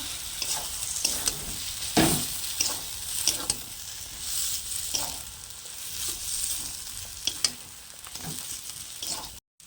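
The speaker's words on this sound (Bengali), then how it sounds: "আর দেবো হলুদ গুঁড়ো ভালো করে নাড়াচাড়া করে নেব" Turmeric powder being stirred into a taro curry in a pan, irregular spatula scrapes and knocks over a faint sizzle, close and fairly quiet, no talking.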